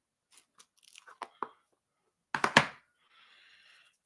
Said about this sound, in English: I will be chewing gum.